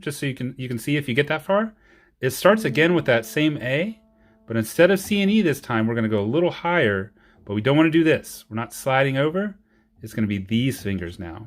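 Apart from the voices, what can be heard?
No everyday noises stand out.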